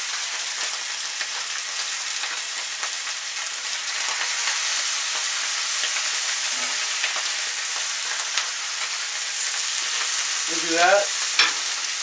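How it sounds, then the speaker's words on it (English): Tomatoes fry in a pan beside a whole fish, giving a steady, close, dense sizzle throughout, with a few faint clinks and a short spoken remark near the end. "I'm going to take this tomato now, because I want this to be like fried tomatoes on there"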